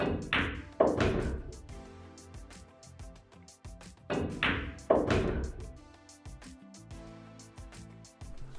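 A pool cue strikes the cue ball with right spin during a 9-ball break-and-run, giving two sharp, close knocks a few seconds apart. Each knock is followed by lighter clicks of balls colliding and rolling on the table.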